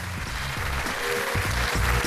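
An audience claps to welcome a guest onto a close-up magic show, a steady dense patter of many hands that continues evenly throughout.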